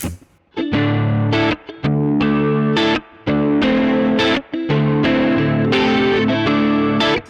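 Hagstrom Deuce F electric guitar played through a chorus effect with a slightly driven tone, ringing strummed chords in bursts separated by brief pauses, close and loud with no voices.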